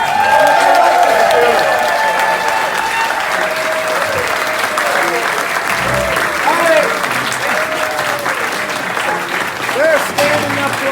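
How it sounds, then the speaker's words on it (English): Restaurant diners giving chef Zuzu a standing ovation, loud sustained crowd clapping with cheering and voices talking over it throughout. "They're standing up to applaud"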